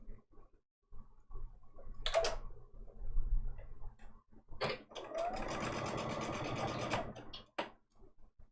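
A sewing machine stitches quilt seams in bursts, starting and stopping with a rapid mechanical whir and ticking, running longest in the middle, close and clear with no talk.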